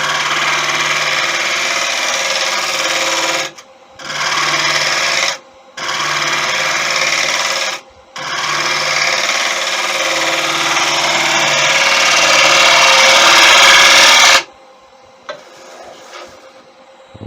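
A negative rake scraper cuts a tiger wood platter spinning on a lathe, a loud steady rasping scrape broken by several short pauses, then cut off, leaving the quieter hum of the running lathe.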